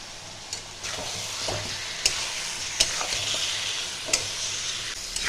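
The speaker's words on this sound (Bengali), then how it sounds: "পাঁচ মিনিট এটাকে আমি কষাবো মিডিয়াম ফ্লেমে।" Marinated chicken frying in masala over a medium flame, a continuous close sizzle punctuated by regular sharp stirring scrapes and taps, no voices.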